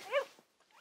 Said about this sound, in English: Can I give Mossy a doggy treat